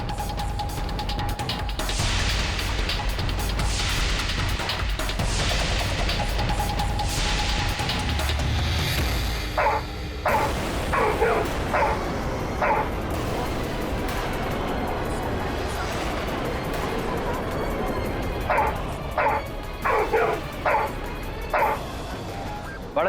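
A dog barks in repeated short bursts in a courtroom drama scene, the barks clustered in two groups later on, over steady background music and some talk.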